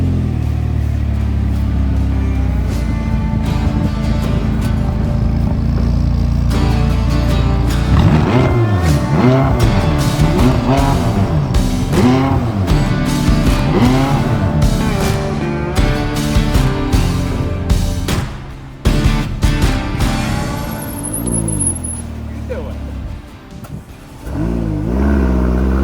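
A 2018 McLaren 570S Convertible engine revs and accelerates hard, rising and falling gear-by-gear sweeps with sharp shifts, loud and close, easing off near the end with no talk.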